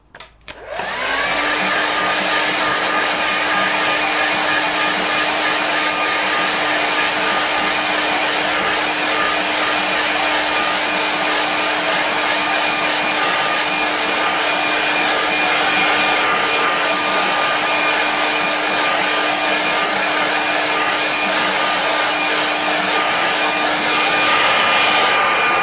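A hair dryer blowing on a watercolour painting, switching on with a quick start and then running as a loud, steady whooshing roar with a constant motor hum, held close, with no voices.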